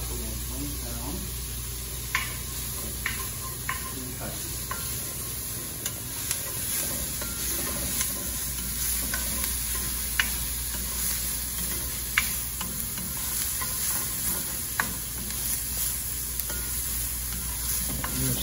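Onions sizzle in a pan for risotto, a constant hiss with periodic sharp clicks of a spoon stirring against the pan, close and steady over eighteen seconds; faint background hum present.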